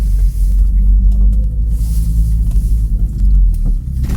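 A car drives along the road, a loud, close low rumble of engine and tyres heard from inside the cabin, steady throughout with slight fluctuations and no talking.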